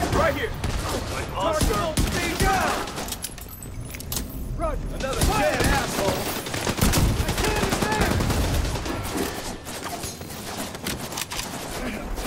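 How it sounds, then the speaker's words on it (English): Pistol gunfire in The Division 2 on Liberty Island, scattered sharp shots and bursts mixed with clattering, engine noise and background speech. "Little bit of pistol action."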